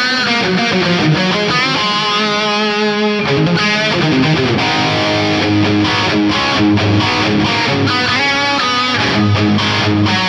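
Electric guitar through a Fractal Audio FM9 with digital stereo delay at 600 ms, distorted notes and chords played continuously with dense trailing repeats washing together, loud and full.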